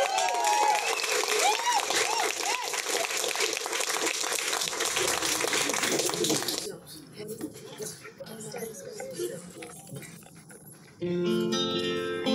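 Wedding guests clap in a dense, loud burst of applause that fades out after several seconds, followed by quieter room sound and a voice speaking.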